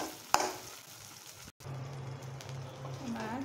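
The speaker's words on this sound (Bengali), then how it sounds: "আমি এখন এটা সুন্দর করে ভেজে নেব।" Chopped onions fry for egg bhuna in a pan, sizzling softly and steadily after a sharp clatter at the start, with stirring scrapes and no talk.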